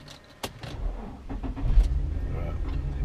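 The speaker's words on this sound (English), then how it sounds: "I enjoy driving the Forester now that it doesn't squeal at me because of the power steering." A Subaru Forester cruises along with a steady low road rumble and engine drone inside the cabin, broken by a few small knocks and rattles, growing slightly louder toward the end.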